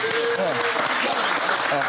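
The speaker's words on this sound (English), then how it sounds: "I can't get over the fucking constant clapping" Steady, continuous crowd clapping in a live audience setting, filling the whole stretch without a break, with voices talking and calling out underneath.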